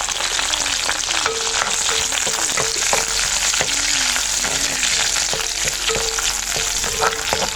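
Rampe (pandan) leaves fry in coconut oil for sugar sambol, giving a steady close crackle and sizzle with intermittent spoon scrapes and clinks against the pan, with no talking.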